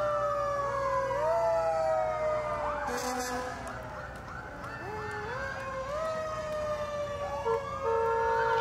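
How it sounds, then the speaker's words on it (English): Emergency vehicle sirens wail at a university homecoming parade, several overlapping rising and falling tones sounding loud and continuous over crowd noise. "It's getting really loud. Love the sirens."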